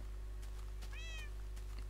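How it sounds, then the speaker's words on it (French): A Minecraft cat gives a single faint meow in the game, set against a steady low hum. "Eh, mais on a des chats."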